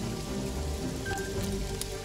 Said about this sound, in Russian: Правда, почему звук дождя? Нету ведь дождя. А звук дождя есть.